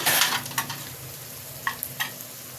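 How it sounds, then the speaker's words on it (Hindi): Spices being stirred into frying minced meat for khara masala keema, a Pakistani dish, with a soft steady sizzle and a few brief scraping stirs of a spoon in the pan. "यह मैं डालने लगी हूँ मसाले।"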